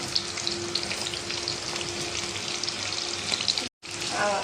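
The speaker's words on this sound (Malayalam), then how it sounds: "അതിലേക്ക് നമുക്കൊരു 15 ചുവന്നുള്ളി ഇട്ട് കൊടുക്കാം. ഇതൊന്ന് കുറച്ച് ചെറിയ മാതിരി ഒന്ന് വഴന്ന് വരട്ടെ." About fifteen shallots sauté in a pan for squid fry, an even, close sizzle with a faint steady hum beneath, cut by a brief dropout near the end before the frying resumes.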